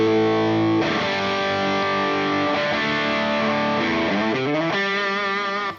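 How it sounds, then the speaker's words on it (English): A HangmanFX effects pedal producing a heavy distortion effect that edges toward fuzz. Loud, thick sustained chords ring continuously and shift to new notes partway through, with no talking. "Sounds probably more, to me, more like a distortion kind of thing."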